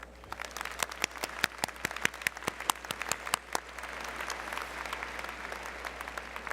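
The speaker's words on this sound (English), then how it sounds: "Please give them a deserving round of applause." Audience applause at a 2018 commencement ceremony, a broad wash of many hands with sharp individual claps standing out, steady and moderately loud before gradually thinning toward the end.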